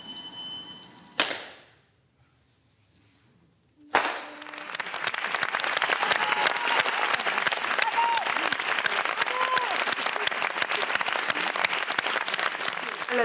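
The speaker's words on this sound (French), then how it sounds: "Les applaudissements à la fin, ça finissait pas." Sustained theatre audience applause swells abruptly after a brief quiet pause and continues loud and dense, many hands clapping steadily without letting up.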